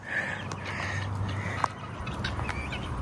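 Crows caw in a few short, scattered calls over a steady outdoor farm background, with one sharper call standing out partway through.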